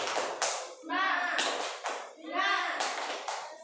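A group of schoolchildren in a classroom, led by their teacher, perform a rhythmic spirit clap in short patterned bursts of hand claps mixed with chanted young voices, loud and close.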